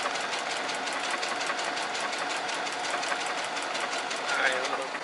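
Brother SE630 sewing machine running with a dynamic walking foot at low to medium speed, a steady close mechanical stitching rattle that continues evenly throughout.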